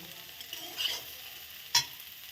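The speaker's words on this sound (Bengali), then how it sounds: "এখন এটাকে ভেজে নেব। ডিমটা দিয়ে দিলাম" An egg fries quietly in a pan, giving a soft, faint sizzle with a couple of brief spatters or utensil touches.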